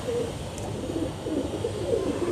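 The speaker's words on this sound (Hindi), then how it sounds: "ये लाला फरीद के घर के कबूतर हैं।" Pigeons kept at a home loft give soft, low cooing calls, several short murmuring coos in a row, moderately close over quiet background noise.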